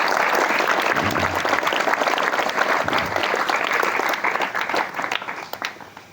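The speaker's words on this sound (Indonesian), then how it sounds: "Tepuk tangan buat kita semua." A dense, sustained burst of crowd applause from santri and teachers at a pesantren evening motivation event, loud and continuous before thinning and fading toward the end.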